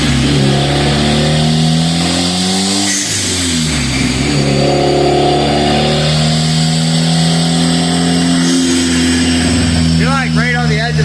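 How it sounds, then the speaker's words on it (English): A turbocharged car with a 3-inch side-dump exhaust revs hard on a dyno at a dyno day, a loud, rising, droning engine roar that climbs and dips through the pulls while voices talk underneath. "3-inch exhaust, side dump, so it's going to be loud"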